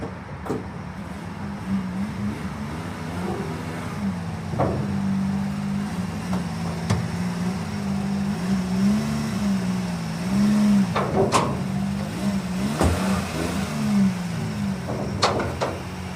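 A JDM Midget kei truck engine runs at a steady low idle, its throbbing hum wavering slightly. A few sharp clicks and knocks stand out over it, with no talking.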